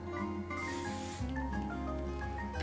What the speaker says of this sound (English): Put a little bit of basting spray on the back of the white